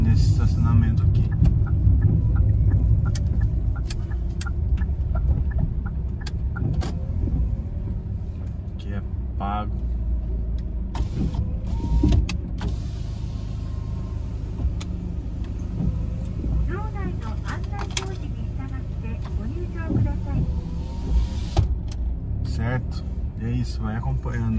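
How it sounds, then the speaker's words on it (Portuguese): A car drives at low speed and pulls into a parking lot, its steady engine rumble continuous throughout with someone talking over it. "Eu vou parar meu carro aqui nesse estacionamento aqui."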